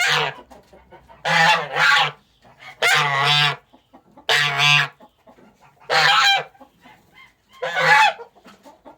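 An amorous gander honks loudly and close by in six strong, evenly spaced bursts, each about half a second to a second long, separated by quieter gaps in which faint bird sounds can be heard.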